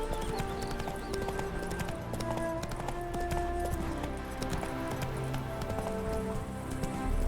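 Hooves clip-clop in a steady, quick trotting rhythm as the horse moves across the ground in The Witcher 3 video game, close and continuous throughout.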